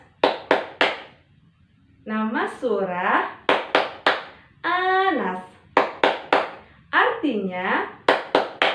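Hands clap sharply in quick rhythmic bursts during an Islamic children's chant about Surah An-Nas. The claps fall between sung and spoken phrases, loud and close, with a voice chanting throughout.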